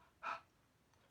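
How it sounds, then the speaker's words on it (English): A single soft, short breathy huff close by onto a rubber stamp's ink, followed by quiet stillness. "all I'm going to do is huff"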